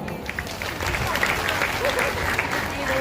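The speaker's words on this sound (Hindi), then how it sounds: "जोरदार तालियां" Listeners at a Shri Ram Katha religious discourse in Hoshiarpur break into thick, continuous applause that blends into a busy crowd wash, with voices audible underneath.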